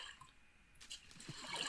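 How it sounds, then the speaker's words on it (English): A bucket of water is emptied onto a boat in a video game, a short, quiet splash that starts partway through and trickles off over a faint background. "I'm gonna water bucket this boat."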